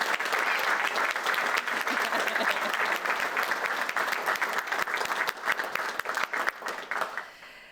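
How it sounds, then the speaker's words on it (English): Graduates applaud friends and family at a fire department recruit class graduation ceremony, a loud, full round of clapping that runs steadily for several seconds before thinning out near the end. "So I would invite the class to please join me in a round of applause for the friends and family."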